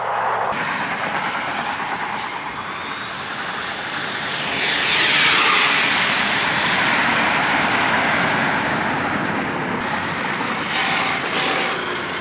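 A Traxxas 4-Tec 3.0 RC car makes a full-throttle speed run. Its electric whine rises as it approaches, peaks loudly as it passes, then fades into a sustained rushing roar.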